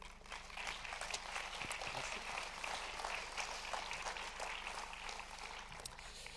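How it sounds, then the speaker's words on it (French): Festival audience applauding an introduced guest speaker, dense sustained clapping filling the room at even strength from start to finish. "Sous vos applaudissements."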